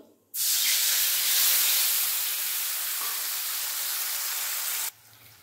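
Soaked tamarind water is poured into hot oil with dry chilli and nigella seeds, setting off a sudden loud, sustained hiss and sizzle that runs for several seconds and then cuts off sharply.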